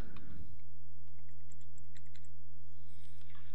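Password being typed on a computer keyboard: a quick run of light, crisp key clicks in short bursts over a steady low hum, with no voices.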